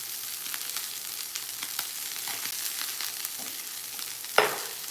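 Fresh thyme sizzles in hot oil in a Saladmaster pan, a steady close hiss of frying with faint stirring ticks and one brief louder crackle near the end, no talking.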